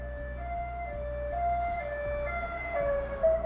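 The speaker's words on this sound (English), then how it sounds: "I'm pretty sure that's an ambulance." Ambulance siren wailing in alternating tones, steady and moderately loud over a low rumbling hum, with no talk.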